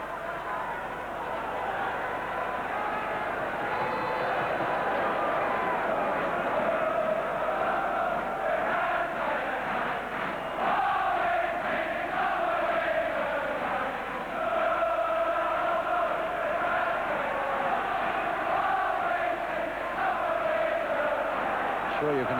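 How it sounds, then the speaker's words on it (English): Arsenal supporters in a packed football stadium at an FA Cup semi-final replay against Liverpool, a constant roar of crowd voices with swelling chants that rise and fall under a match commentator's talk. "you can hear the Arsenal voices in the crowd at the moment"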